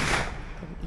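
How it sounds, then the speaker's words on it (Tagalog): Firecrackers go off during holiday festivities in the Philippines, a dense, loud crackling burst that fades slightly over a second, with no speech. "Mga paputok."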